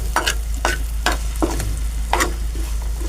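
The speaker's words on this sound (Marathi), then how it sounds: "थोडीशी लसूण पेस्ट टाकली. अंदाजे अर्धा चमचा ढवळून घेऊ." Garlic paste being stirred in a frying pan: several distinct scraping strokes over a low, steady sizzle, close by and fairly quiet, with no talking.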